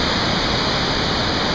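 The highest waterfall in Maryland, at Swallow Falls State Park, roars in a loud, steady, unbroken hiss of falling water close by, with no voices over it.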